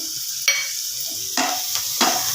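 Green chilies go into chopped garlic frying in butter, a soft steady sizzle broken by three sharp clinks and scrapes of a spoon against the pan, close up and without speech.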